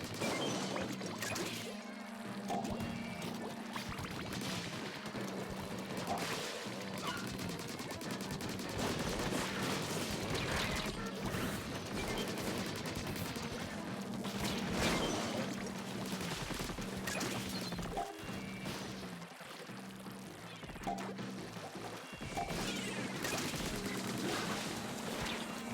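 Cannons fire in a Splatoon Clam Blitz match amid dense, continuous game action: repeated bursts, splats and crashing impacts layered thickly over steady background music throughout.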